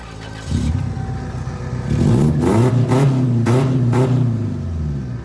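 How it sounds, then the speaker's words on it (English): A Previa minivan engine with a repaired exhaust idles low, then revs up in a few deep, throaty surges, loud and close with no one speaking. "I'll show you that real quick. Give you a little rev."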